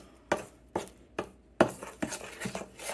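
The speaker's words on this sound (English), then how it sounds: "you're just gonna mix all of this together." Cherry pudding cake batter without eggs is mixed in a bowl, giving a quiet, steady series of spoon taps and scrapes against the bowl, about five or six strokes.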